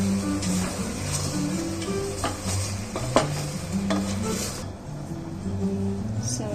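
Country chicken sizzles in a surgical steel pan as it is stirred with pepper and turmeric, a continuous frying hiss broken by repeated scraping strokes, with some background talk.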